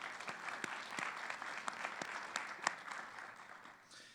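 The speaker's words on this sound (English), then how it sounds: "If you could please join me in a round of applause for them." A small group at an IB graduation claps steadily for a few seconds, moderate and somewhat distant, then the applause thins out and fades.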